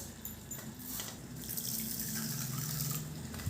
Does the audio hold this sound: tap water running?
yes